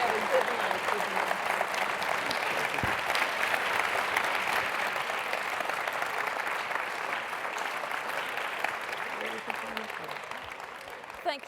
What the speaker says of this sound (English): maybe one more round of applause for an extraordinary woman